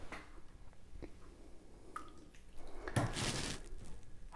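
A brand-new Yaesu FT5D handheld radio is dunked into water, giving faint drips and a brief splashing swirl near the end in an otherwise quiet space.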